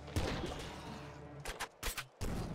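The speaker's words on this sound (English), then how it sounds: "Big Kraken gun sounds very lovely." Kraken gun fire in the video game Nuclear Throne, rapid bursts of sharp blasting shots with splashy bursts, in a few clusters separated by brief gaps.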